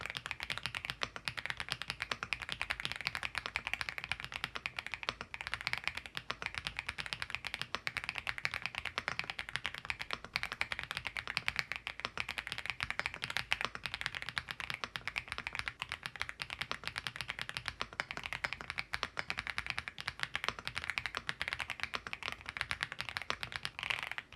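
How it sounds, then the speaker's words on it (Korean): Steady, dense typing on a mechanical keyboard fitted with Leobog Grey Wood switches, close and continuous for the whole stretch with no talking. "이제 타건 테스트 진행해 보겠습니다. 스위치는 레오보그 그레이 우드축이고요."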